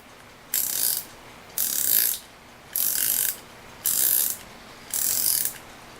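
A 1950s Reuge singing bird music box alarm clock being wound, five evenly spaced bursts of bright ratcheting clicks, each about half a second long, close and fairly loud against a quiet background.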